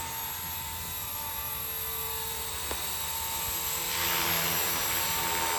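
Blade Revolution 235 CP RC helicopter hovering in a backyard, a faint continuous high-pitched whine of rotor and motor with steady hiss, rising slightly toward the end, no talking.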